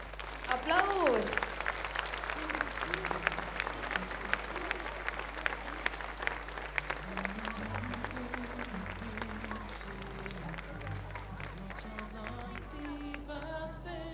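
Audience applause at a gymnastics festival, a sustained wash of many hands clapping at a distance throughout, with a voice speaking briefly near the start.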